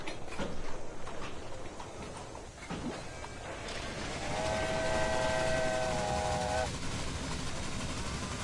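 Steam locomotive whistle in the railway-building video game Railway Empire, a long multi-tone blast sounding over rumbling train and ambient game noise, fairly loud and steady for a couple of seconds.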